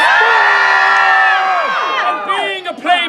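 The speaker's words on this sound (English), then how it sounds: "lightning strikes the ship and everyone screams" An audience at a staged performance of Shakespeare's The Tempest screams loudly together as the ship is struck by lightning, a dense chorus of high voices that holds and then breaks into scattered shrieks and yells.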